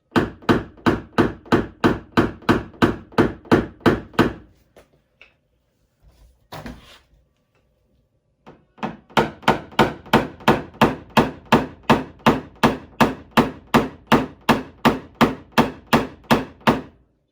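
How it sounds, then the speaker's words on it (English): Rapid, evenly spaced hammer-and-knockdown taps on a car hood, likely aluminum, ring out in a long run, pause for a few scattered knocks, then resume at the same steady pace. "I'm just going to use a hammer and knockdown just to knock these down."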